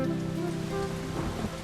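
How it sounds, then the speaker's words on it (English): Rain falls steadily in a cartoon playground, a continuous patter on the ground with a faint tonal music bed underneath. "It's raining in the playground."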